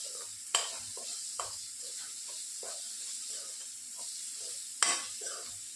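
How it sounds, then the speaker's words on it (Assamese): Ground black pepper is stirred in a hot frying pan, a spoon scraping in a few sharp strokes and many softer repeated ones over a steady close hiss of sizzling, with no voices. "জালুকখিনি অলপ সিজিবৰ বাবে লৰাই দিছোঁ।"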